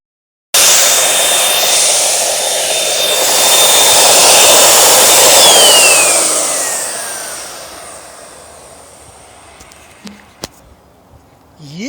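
A paint sprayer hisses loudly and steadily for several seconds up close while coating a wooden deck, then tapers off into quieter background noise with a few small clicks near the end.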